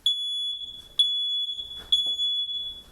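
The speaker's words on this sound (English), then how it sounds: "a constant, ear-piercing sound of the smoke alarm blared in the hallway, but Alex and Tristan didn't even budge." A smoke alarm sounds in three shrill, piercing beeps about a second apart, each held briefly, with faint shuffling noises between.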